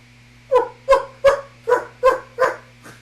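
A dog barks six times in a steady rhythm, close and loud, over a low constant hum, with no talking.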